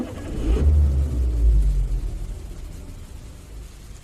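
A car engine at night in the rain sputters and dies while driving: a low rumbling motor surges loudly, then falters and fades out into quiet, close and alone with no talking.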